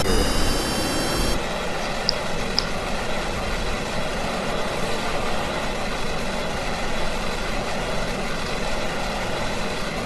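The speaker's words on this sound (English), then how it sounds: "I'm flying a MiG-25" Steady engine drone of a MiG-25 jet in Kerbal Space Program, a loud, even roar that holds for the whole stretch after a brief louder opening, with no talking.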